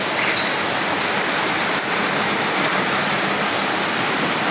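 Heavy rain pours on a Kolkata street, a dense, loud, unbroken hiss of water hitting surfaces that holds steady throughout.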